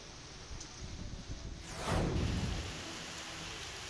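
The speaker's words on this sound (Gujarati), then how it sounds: "ગાજવીજ સાથે ધોધમાર વરસાદ ખાબક્યો" Heavy rain pours down in Junagadh during a thunderstorm, a steady loud hiss of downpour that swells into a deeper rumbling surge of thunder midway, continuing without any voices.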